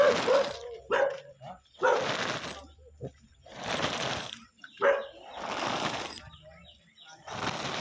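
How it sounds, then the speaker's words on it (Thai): A dog barks in loud, repeated bursts spread across the moment, mixed with a person talking to it in between. "ไม่ต้องเห่ามาดี ไม่ต้องเห่า มาดีมาดีมาดี"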